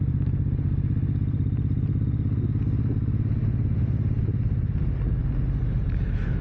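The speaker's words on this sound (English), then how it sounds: "see if it can just capture the bike noise" Suzuki M109R motorcycle captured by a mic mounted on the front of the bike: a steady, loud, low engine rumble with wind buffeting and road clatter throughout, no voices.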